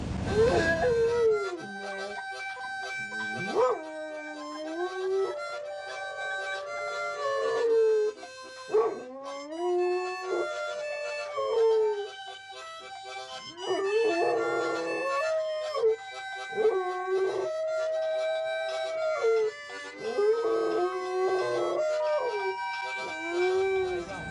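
A dog howls in long, wavering, drawn-out tones that rise and fall, repeating over and over with short yips between, close and clear against a quiet background.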